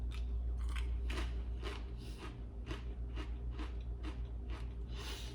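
Thick-cut potato crisps bitten and crunched close up, a run of about a dozen sharp crackly bites and chews in steady rhythm over a low steady background hum.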